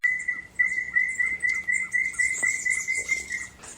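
A chestnut-naped antpitta gives a steady, clear whistled call, repeated continuously over soft background chirps and insect buzz in an Ecuadorian forest.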